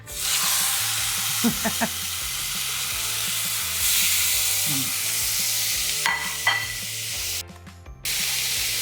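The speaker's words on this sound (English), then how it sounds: "So I'm going to pop these lamb steaks on. They're going to sizzle like mad." Lamb steaks sear in a hot pan with a loud, continuous sizzle, broken by a few clatters and scrapes and a brief drop near the end.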